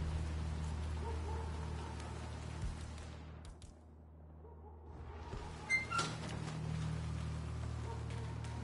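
Steady rain falls in the video game Hitman III, a dense, even hiss heard up close, briefly dipping in the middle before returning at full strength, with a few soft knocks mixed in.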